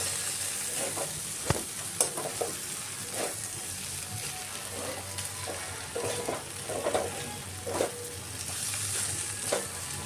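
Okra (bhindi) frying in a pan, with a steady low sizzle and repeated scraping stirs at an uneven rhythm, plus a couple of sharper knocks of a utensil against the pan, close and moderately quiet.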